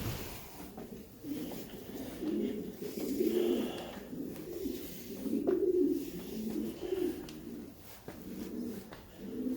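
Pigeons coo softly in low, rolling phrases throughout, echoing faintly inside the ruined stone walls of Kenilworth Castle near Elizabeth's bedchamber.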